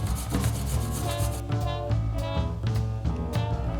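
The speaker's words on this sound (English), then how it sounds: "We're just going to grate them." Carrots being grated by hand for a festive leftover Caribbean curry: steady, rhythmic rasping strokes scrape back and forth across the grater, close and moderately loud, with no talking.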